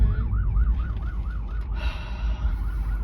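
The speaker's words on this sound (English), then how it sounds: "I'm just gonna wait because there's an ambulance coming" An ambulance siren wails in a steady rising-and-falling yelp over heavy traffic rumble, fairly close and loud, with no one speaking.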